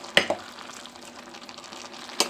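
A spoon stirs boiled rice with vegetables and ground coconut paste in a pot, making a few sharp knocks against the pot over a soft, low simmer, close and brief.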